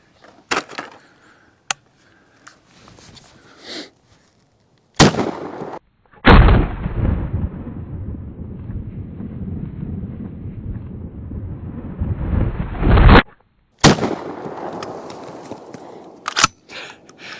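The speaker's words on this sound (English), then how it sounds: "So let's see what this thing does to that melon out there." Benelli Nova 3.5-inch shotgun firing hollow-point sledgehammer slugs at a melon outdoors: several sharp, loud gunshot cracks spaced apart, with wind buffeting the microphone and a long rumbling stretch between shots.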